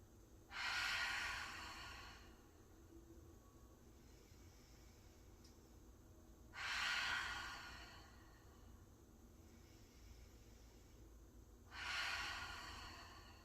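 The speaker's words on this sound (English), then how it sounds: "Let's do 3 more deep cleansing breaths to really settle into our Shavasana. Inhaling through the nose and exhaling through the mouth." Three slow, deep cleansing breaths during a calming yoga rest pose, each a long airy inhale through the nose and sighing exhale through the mouth, close and evenly spaced with quiet pauses between.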